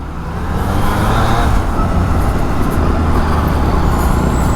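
Bus and surrounding road traffic on a busy Manila street, a loud steady roar of engines and tyres that fills the whole stretch without a break, with no voices over it.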